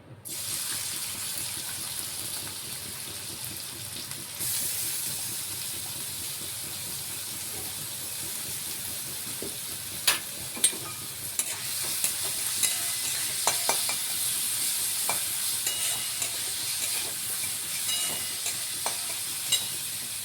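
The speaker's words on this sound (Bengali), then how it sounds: "তেলটা গরম হয়ে গেলে এখানে আমরা একে একে পেঁয়াজ, রসুন, কাঁচা লঙ্কা, আদা এটা আমরা ফোড়নে দিয়ে দেবো।" Onion, garlic, green chili and ginger sizzle in hot oil, a steady bright hiss with occasional pops and stirring clicks, loud and continuous with no talk.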